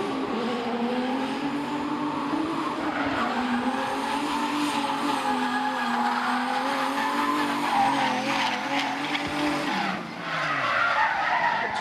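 A drift car at a D1NZ Pro Championship qualifier at Baypark Stadium, its tires squealing in a loud, continuous skid with the engine roaring underneath for the whole stretch, the pitch wavering as it slides.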